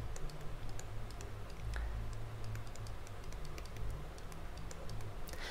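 Keys on a computer keyboard are typed in quick irregular clicks, faint and steady over a low background hum, with no talking.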